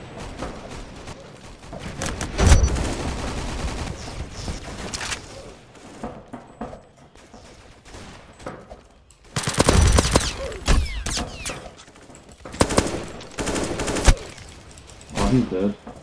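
Gunfire in the Roblox shooter Aimblox comes in loud rapid bursts of automatic fire separated by quieter stretches, mixed with game effects and mechanical clicks.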